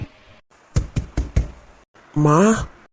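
Four sharp knocks on a door in quick succession, close and firm, followed after a pause by a voice calling out.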